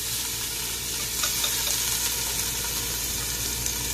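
Onion frying in hot oil in a pot for Saudi chicken kabsa, with a loud, steady, close sizzle and some faint stirring clatter, and no talking.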